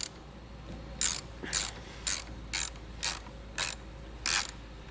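Seven evenly spaced bursts of ratchet clicking, loud and close, as a 13mm wrench backs a nut off a vehicle power stud, with quiet gaps between strokes.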